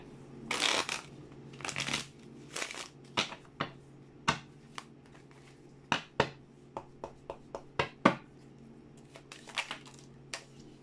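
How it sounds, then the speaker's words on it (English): Tarot cards shuffled by hand in a quiet room: a few riffling bursts followed by a run of sharp, separate snaps and taps as the deck is squared, close and clear with no talking. "One last shuffle."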